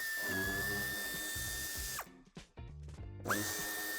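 A power tool whirs steadily while removing plastic wheel-arch trim screws on a 2019 BMW 4 Series G22 coupé, then stops with brief clicks and handling noises before spinning up again, close and clear.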